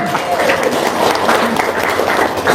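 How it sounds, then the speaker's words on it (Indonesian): Audience clapping during a spoken religious lecture, a brief, lively burst of applause with scattered voices and murmurs running under it. "Tepuk tangan dong"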